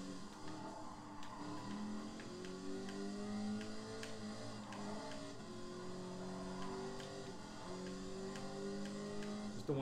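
A high, buzzing Ferrari race car engine in Gran Turismo Sport whines steadily throughout, its pitch rising and falling with shifts and throttle, loud and continuous with no talking.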